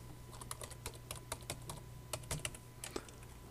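Someone types unevenly on a computer keyboard, giving a quick run of close, crisp key clicks over a low, steady background hum.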